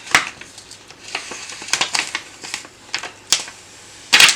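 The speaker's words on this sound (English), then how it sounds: "Just going to start here in the corner and peel the excess vinyl back." Excess heat transfer vinyl peels off its backing in a series of crisp, crackly rips and ticks, irregular and close, with louder tearing bursts at intervals and no voices.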